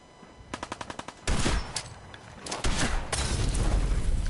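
Gunfire in Fallout 4 aimed at a sniper: a quick run of about eight sharp shots, then a heavy blast and a sustained rumble of battle noise.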